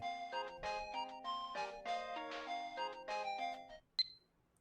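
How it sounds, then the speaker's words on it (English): A cheerful electronic phone ringtone from the Steins;Gate visual novel plays a bright chiming melody of stepped tones for about four seconds, ending with a single sharp high ping and a short ringing tail. "My phone is ringing."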